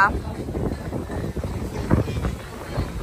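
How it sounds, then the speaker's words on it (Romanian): Strong wind gusts across the microphone on Venice Beach in Los Angeles, a steady loud buffeting rumble with a brief dip partway through, while people talk over it. "mă enervează că bate vântul foarte tare"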